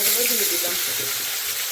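Pumpkin pieces dropped into hot oil seasoned with cumin, dried chilli and mustard seeds, giving a loud, steady hiss of frying with faint bubbling throughout, no voices.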